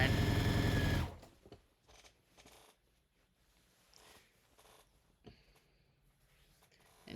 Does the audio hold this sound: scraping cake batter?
no